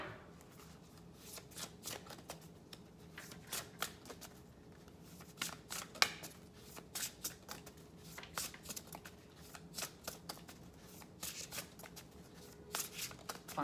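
Oracle cards are shuffled by hand in a quiet room, a steady run of soft riffling flicks and slaps repeating for over ten seconds, close and fairly faint.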